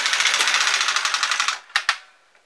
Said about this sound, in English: I'm going to knit one row with every other stitch.